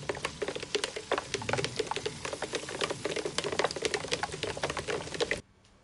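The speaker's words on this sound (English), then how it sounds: "I love the sound of rain." Steady rain patters and taps across a broad hiss, dense and continuous at close range, then cuts off abruptly near the end.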